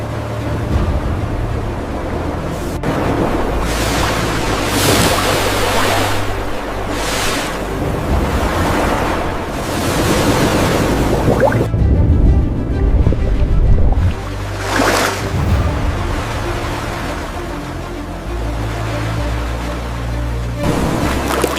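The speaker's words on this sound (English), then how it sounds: "The sound of splashing fills the air." Water splashes and surges in an open-sea setting, loud and continuous for a long stretch, with rushing wave-like bursts and heavy wind buffeting the microphone.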